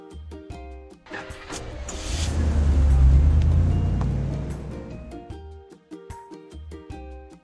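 A drop side truck drives in a kids' construction video game, its low engine rumble swelling to a loud peak mid-clip over cheerful game music before easing off again.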